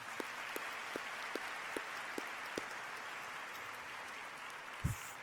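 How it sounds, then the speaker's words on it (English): Crowd applause at a high school graduation ceremony, a steady distant wash of many hands clapping, fairly faint, with a few sharper single claps and a small bump near the end. "Let's give them a round of applause."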